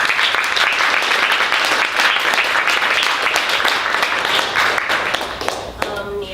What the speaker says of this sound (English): we should clap again for her